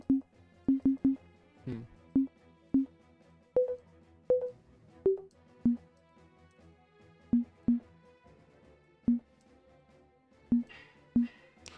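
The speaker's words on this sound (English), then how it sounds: "Sine wave goes way better with lower frequencies." Short sine wave tones from a sound editor beep in an irregular sequence at low pitch, each a clean isolated blip with brief pauses between, a few stepping higher in the middle.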